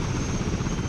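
A steady, dense rotor drone of a helicopter in the video game Battlefield 1942 Desert Combat fills the whole second, loud and continuous with a thin high whine on top.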